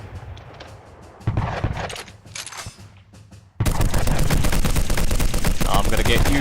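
Gunfire aimed at a zeppelin in a Gettysburg armored warfare game, scattered shots at first, then a loud sustained rapid barrage that runs to the end.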